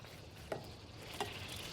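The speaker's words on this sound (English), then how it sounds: "that butter is sizzling" Faint, steady sizzling of butter in a hot saute pan, a soft crackling hiss with two brief louder pops, no voices.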